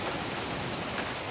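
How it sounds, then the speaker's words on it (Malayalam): Heavy rain falls in a hilly farming area, a dense, steady roar of drops on surfaces that fills the whole moment without a break, loud and close. "മഴയാണ്."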